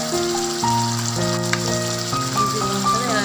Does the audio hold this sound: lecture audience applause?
no